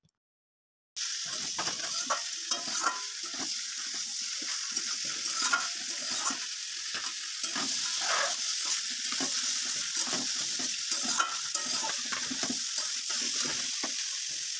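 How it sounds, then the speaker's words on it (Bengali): Duck meat fries with onion over a high flame, a loud steady sizzle starting after a second of silence, punctuated by frequent stirring scrapes and spatters. "মাংসটাকে কিন্তু পেঁয়াজের সাথে হাই ফ্লেমে খুব ভালো করে ভাজতে হবে"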